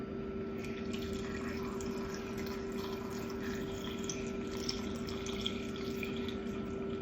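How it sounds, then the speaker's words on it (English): White distilled vinegar pours into a jar holding seeds for a no-cook Jamaican escovitch pickle sauce, a steady, close liquid trickle over a constant low hum. "Now we're gonna add our white distilled vinegar."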